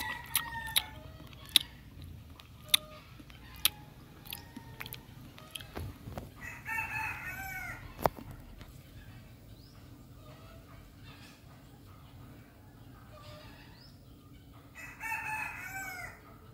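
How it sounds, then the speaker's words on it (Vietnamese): A rooster crows several times, close and clear, between scattered sharp clicks and knocks, with fowl clucking faintly in the background. "con gà"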